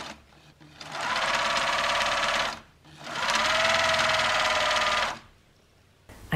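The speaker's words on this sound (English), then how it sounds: "I fold the strap right sides together and I sew with a zigzag stitch." A sewing machine runs a zigzag stitch along a folded fabric strap for a summer halter top, two steady whirring runs separated by a short pause, close and loud.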